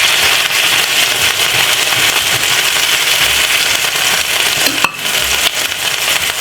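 Steak frying in a pan, giving a steady, dense sizzle that holds evenly throughout with a brief crackling pop near the end and no talking.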